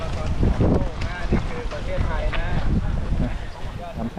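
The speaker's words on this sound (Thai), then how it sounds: "ยังมีลมอยู่เลยนะ" Steady wind blowing outdoors along the flat beach road at Bang Saen, a continuous rushing roar that runs the full length of the stretch, with voices and movement mixed in beneath it.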